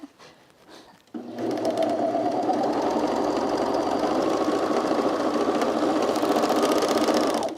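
A domestic sewing machine stitches an Itch to Stitch Azores dress, starting after a second of quiet and then running alone in one steady, close, unbroken burst.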